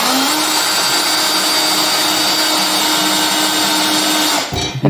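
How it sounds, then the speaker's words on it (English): A power drill bores holes through a steel plate with a steady, loud, close high-pitched whine that holds for several seconds and then cuts out abruptly. "When you're drilling through steel,"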